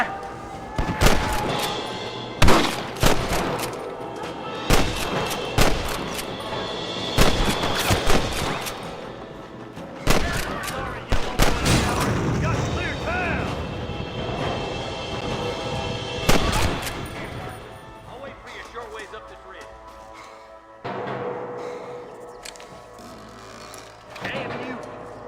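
Gunfire in the western video game Red Dead Redemption, with sharp, loud shots fired in bursts and single cracks, some close together, over a low rumbling backdrop.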